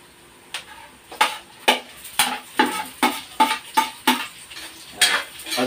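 Onion being added and stirred into sautéing garlic in a pan for chicken kaldereta, heard as a rhythmic series of about a dozen sharp utensil scrapes and clinks over a light sizzle.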